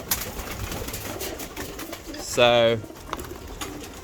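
A pigeon coos once at a loft trap, a short clear call standing out over quiet background, with a single brief spoken word nearby.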